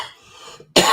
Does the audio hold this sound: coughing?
yes